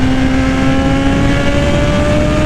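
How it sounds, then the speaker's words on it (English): A Suzuki GSX-R 750 motorcycle engine drones loud and steady at high revs on a highway, with a constant engine tone and rushing wind noise throughout, no voices. "Now this is a motorcycle."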